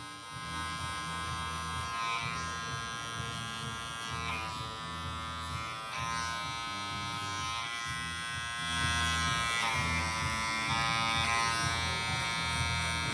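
Electric hair clippers buzz steadily and close up while fading an afro flat top haircut, a continuous motor hum with slight shifts in pitch as the lever is switched, with no talking.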